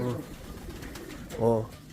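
Racing pigeons coo close by in a loft, two soft throaty calls about a second apart, with faint background noise between them.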